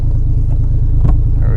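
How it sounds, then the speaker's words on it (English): A 1JZ-swapped BMW E36 sits at a low, steady idle, its rumble loud and close and pulsing evenly, with a brief thump partway through. "A little bit of a low idle, nothing to worry about."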